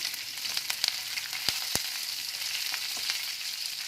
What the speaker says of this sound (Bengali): পেঁয়াজটা দিয়ে একটু নরম হওয়া পর্যন্ত নাড়তে হবে।